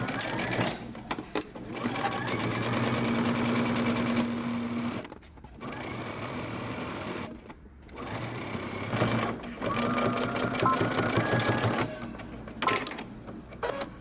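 Sewing machine running in bursts as it stitches over an existing seam on a dress or romper, a fast steady mechanical whir with short pauses between runs, loud and close.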